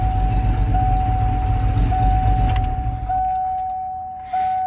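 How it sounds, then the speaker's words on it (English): Keys jangle close by over a steady idling engine rumble and a constant tonal hum, then the engine noise drops away, leaving clinking keys in a quieter space. "got the keys for the toolbox and the keys here"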